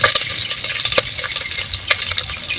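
Mustard seeds, curry leaves and onion fry in oil in a pan, crackling and popping sharply in rapid irregular bursts over a sizzling bed, with stirring scrapes, close and fairly loud, no talking.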